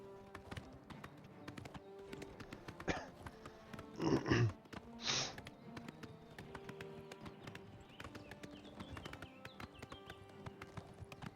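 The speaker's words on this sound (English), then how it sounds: "Wish my horse would just stop reversing." Horse hooves clip-clop at a walk in the video game Oblivion, soft and fairly close, with a few louder uneven bursts midway as the mount shifts around, under a faint game ambience.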